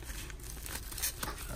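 Bubble wrap pulled from a package, soft crinkling and rustling plastic in short irregular bursts, faint and close.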